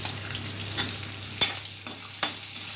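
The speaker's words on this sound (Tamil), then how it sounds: "இப்போது பூண்டும் இஞ்சியும் போடுறேன்." Garlic and ginger fry in hot oil with fennel seeds, cumin and pepper for a prawn gravy, giving a steady close sizzle broken by a few sharp stirring clinks.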